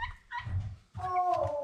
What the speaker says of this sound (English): Our little turkeys.